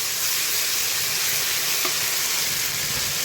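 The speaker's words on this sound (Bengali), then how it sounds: "তেল গরম হয়ে হয়ে গেছে দিয়ে দিলাম একটুখানি কালো জিরে" Nigella seeds and ground jackfruit seed paste sizzle steadily in hot mustard oil, a dense, even frying hiss that holds close and loud throughout without any voices.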